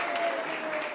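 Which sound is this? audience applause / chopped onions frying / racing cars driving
audience applause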